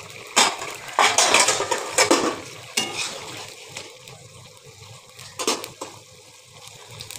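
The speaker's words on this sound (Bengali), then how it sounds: "ঢাকনা দিয়ে দিয়েছিলাম, ঢাকনাটা উঠিয়ে দেবো" A metal lid comes off a pot of simmering Bengali fish curry with cauliflower, producing a cluster of loud clanks and rattles at first, then softer scattered clinks over a faint bubbling.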